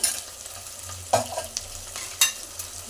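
Tomato, coconut and mint paste frying in a pan for chicken curry, with a soft steady sizzle under a few sharp stirring scrapes and spoon knocks, no talking.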